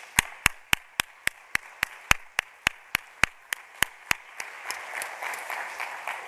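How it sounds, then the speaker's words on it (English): Audience applause after a speech at a QKids Day event, opening with a run of sharp, evenly spaced nearby claps for about four seconds before a looser, softer spread of crowd clapping takes over. "Everybody, can we give another round of applause for Paul?"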